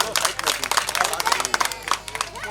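A crowd applauds at a mass wedding event, clapping loudly with a dense, uneven burst of handclaps that rises and dips over a couple of seconds.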